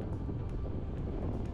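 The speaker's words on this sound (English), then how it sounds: "Sorry if the wind is loud." Steady wind buffets the microphone on a beach in Naples, Florida, a dense low rumble that fills the whole moment with no other clear sound.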